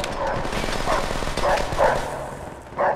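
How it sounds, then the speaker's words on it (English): A dog in Call of Duty: World at War barks in several short bursts, spread over a few seconds and set against steady battle noise from the game. "I hear a dog!"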